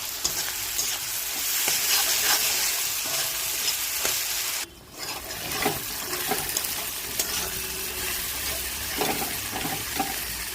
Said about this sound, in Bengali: এবার আমি পেঁয়াজটা দিয়ে দিলাম